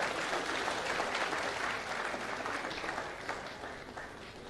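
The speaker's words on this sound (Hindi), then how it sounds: "जोरदार तालियों के साथ स्वागत।" A crowd at an appointment letter distribution ceremony in Jharkhand claps steadily in sustained applause, loud and dense throughout, fading slightly toward the end.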